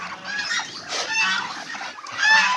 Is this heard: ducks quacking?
yes